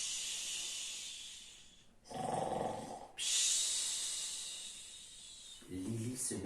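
A voice imitating loud snoring, with drawn-out breathy rasping inhales and exhales, close to the listener and growing in intensity.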